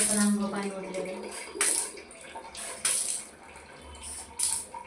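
Water from a shower splashes over a child at bath time in bursts of pouring and spattering, with pauses between, while a voice talks over it.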